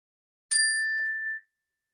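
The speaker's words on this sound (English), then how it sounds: "I'll go ahead and ring the bell to get us started" A single meditation bell struck once to open a sitting session, a clear bright tone ringing out with steady sustain for nearly a second before cutting off, alone in silence.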